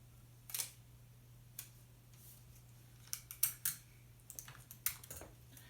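Tape pulled and pressed onto a handmade viewfinder, heard as scattered crisp ripping and crackling bursts close by over a steady low hum, with no talking.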